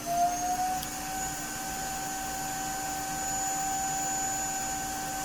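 A household vacuum cleaner running steadily at moderate distance, a constant motor whine with a sustained high tone and low hum, after a brief louder start.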